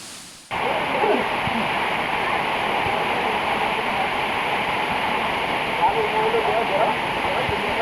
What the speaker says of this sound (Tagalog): Nagabot agad kita sa ikaduha nga falls.